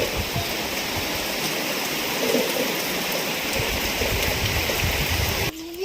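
Heavy rain pours down in a steady, loud, unbroken rush of water, with a brief change in the sound near the end.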